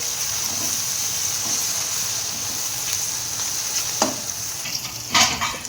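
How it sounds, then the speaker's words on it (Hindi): Onions and chicken mince for a chicken lasagna fry in a pan, giving a close, steady sizzle. A few sharper stirring scrapes come near the end, and no one talks. "लाइट ब्राउन कलर करेंगे प्याज का।"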